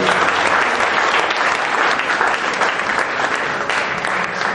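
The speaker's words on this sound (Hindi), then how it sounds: "सभी के लिए तालियों के संगीत से एक बार अभिनंदन" Audience applause welcoming performers onto a stage at a music gathering, a full, sustained wash of clapping from a sizeable crowd, even in loudness from start to finish.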